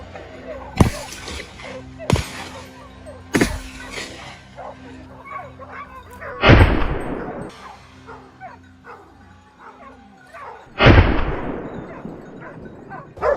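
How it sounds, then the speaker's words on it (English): Several sharp gunshots ring out during a wild boar hunt in wheat fields, spaced seconds apart with two loud booming reports, while dogs bark and whimper nearby and a voice is heard. "Without hesitation, rapid shots rang out, giving it no chance to react."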